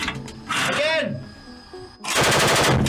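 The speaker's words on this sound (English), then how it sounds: "The Leopard 2 also has a coaxial machine gun mounted next to the cannon, mainly used for engaging infantry targets." Coaxial machine gun of a Leopard 2 tank firing two loud rapid bursts separated by a pause, with a voice speaking between them.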